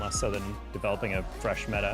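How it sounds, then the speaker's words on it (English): A siren wails faintly in the background, its pitch sweeping up and down, while someone talks continuously over it. "Excuse the siren."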